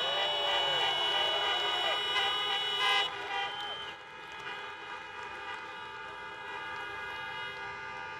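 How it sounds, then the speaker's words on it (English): Car horns honking together at a drive-in political rally in Georgia, a steady sustained chorus of blaring tones that fades after about three seconds into a quieter, lingering layer of distant honks. "Honk your horns if you've been vaccinated."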